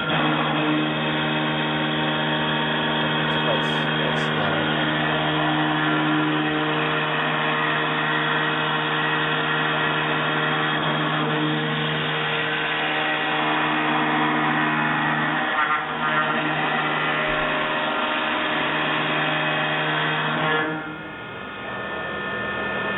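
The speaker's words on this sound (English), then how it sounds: "this is a 3D milling machine that could mill on a X and Y radius. So as you can see here, it's milling" A 3D milling machine cutting through three stacked sheets of MDF drones with a loud, steady, tonal hum and whine that holds for over twenty seconds before easing off slightly near the end, with no talking.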